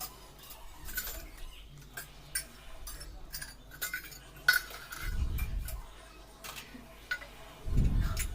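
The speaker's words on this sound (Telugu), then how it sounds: "ఇది గిన్నెలు కడిగేసినవి ఉంటే మళ్ళీ అవన్నీ సర్దుతున్నా." Washed dishes and utensils are being put away, with scattered soft clinks and clatters of metal and a couple of duller thumps as items are set down.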